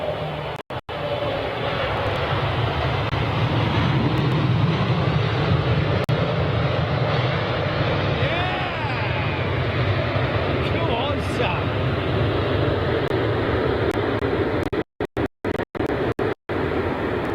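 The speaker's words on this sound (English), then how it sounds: "Dreamliner." British Airways Boeing 787 Dreamliner airliner arriving at Heathrow, a sustained broad engine roar with faint whining tones, steady and fairly loud throughout, with a few abrupt dropouts near the end and a voice speaking over it.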